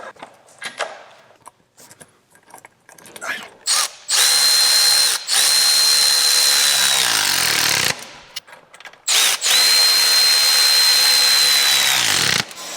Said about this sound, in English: Drill and bolt.